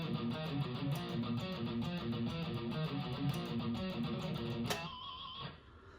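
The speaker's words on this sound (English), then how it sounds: "I'm going to show you the rhythm guitar part first" A heavily distorted metal rhythm guitar, tuned down half a step, chugs a driving riff from a Murder Drones remix, loud and dense with tight repeated palm-muted hits before cutting off to a ringing, fading tail near the end.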